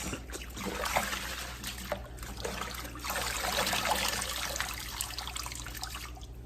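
Running water splashes and trickles steadily over vegetables, with swishing as they are rinsed by hand, moderately close with no talking.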